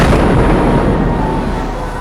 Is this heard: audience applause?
no